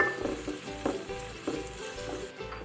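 Onions frying in butter in a pan for a lasagna white sauce, a steady close sizzle with soft crackles and occasional stirring scrapes, no talking.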